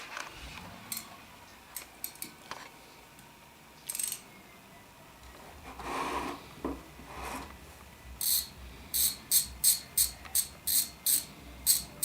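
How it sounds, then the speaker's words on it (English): A ratchet turning a bolt on a Kawasaki Vulcan 900, heard first as scattered clicks and scrapes and then as a quick run of sharp, evenly spaced ratcheting strokes up close. "You're probably going to need a ratchet extension to get in there."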